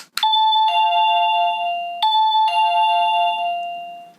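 A CATA CT-105 wireless batteryless plug-in doorbell gives a bright two-tone electronic chime twice, clear and close, each ding-dong ringing out and fading with no voices.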